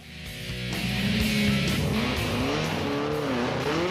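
A Ford RS1800 rally car engine roars up loudly and stays high, its pitch rising and dipping as it revs hard, with no voices over it.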